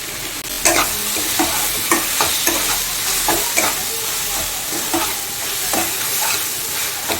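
Water spinach (kolmi shak) stir-frying in mustard oil, a steady loud sizzle with repeated sharp scraping strokes of a spatula against the pan, no voices.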